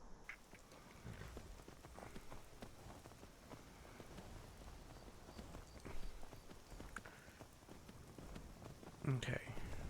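Horse hooves clip-clop steadily on the ground as a rider travels in Skyrim, a moderate, even walking rhythm heard fairly close beneath faint ambient noise.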